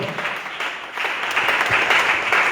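Church congregation clapping in steady applause, a dense, fairly loud patter of many hands that swells slightly toward the end, with no talking over it.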